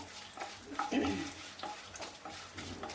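Curry leaves and dried red chillies frying in hot oil in a pan for a bottle gourd curry, with a close sizzle and crackle while the pan is stirred.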